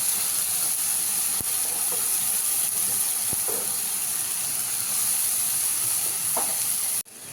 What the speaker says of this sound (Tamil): இப்போது வெங்காயம் இஞ்சி பூண்டு பேஸ்ட் எல்லாம் சூப்பராக வதங்கிட்டு இருக்கும்.